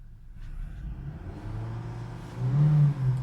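A 2013 Honda City 1.5 SV automatic engine idles low and steady, then rises briefly in a soft rev near the end.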